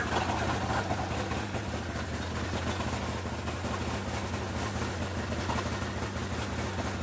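A classic snowmobile engine runs at a steady, close idle with a dense low rumble and a slight rise in revs, continuous and alone with no voices.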